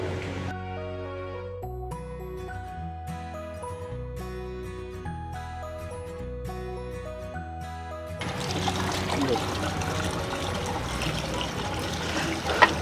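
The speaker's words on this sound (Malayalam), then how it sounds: "അങ്ങനെ നമ്മുടെ പമ്പ് കര വെച്ചിട്ട് വെള്ളം നിറയ്ക്കുകയാണ്." Water rushing and trickling steadily as a CRI jacket amphibian pump (low head, high discharge) sits on a bank being filled. The water noise takes over after several seconds of music and carries on close and continuous to the end.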